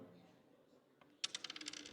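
Dice clatter onto a table after missing the dice tray at a live convention panel, a quick run of sharp, bright ticks that bounce and settle within about half a second, loud and close after near silence.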